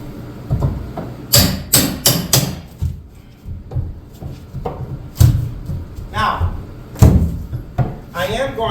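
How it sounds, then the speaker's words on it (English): A wooden wall stud in kitchen window framing is knocked loose and fastened back in, with several sharp close hammer blows in quick clusters, separated by rustling and thuds under someone talking. "So we'll pull this stud out, move it over, get it fastened back in."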